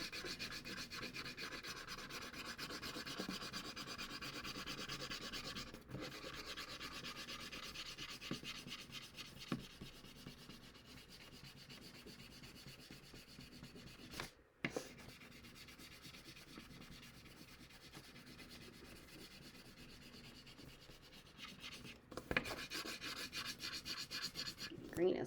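Green wax crayon rubbed steadily across paper for a cut-out craft, a continuous close scratchy scribbling with brief pauses and short bursts of faster strokes.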